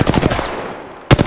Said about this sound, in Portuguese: Eu tô tomando tiro.